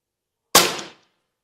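A single shot from a Megaorei 2 air rifle loaded with 6.35mm 51-grain pellets: one sharp, loud crack close by that decays quickly into silence.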